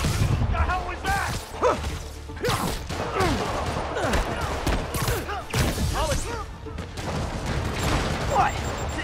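Rockets exploding in the Marvel's Spider-Man game, heard as repeated bursts, crashes and whooshes that keep up steadily as a dense barrage under game dialogue.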